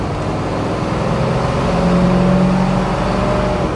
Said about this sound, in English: So again, first gear pulling out, second gear, third gear,